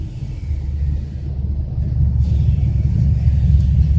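A truck rumbles past on the road, a loud, steady low-pitched drone that builds gradually and stays strong throughout, with no talk.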